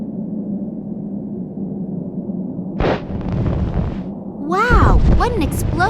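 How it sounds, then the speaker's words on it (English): An explosion in the video game Secret Files: Tunguska sets off a small avalanche in Antarctica: a sudden blast, then a rumbling tail, with a voice speaking briefly at the end. "Wow, what an explosion! It appears that it even triggered a small avalanche"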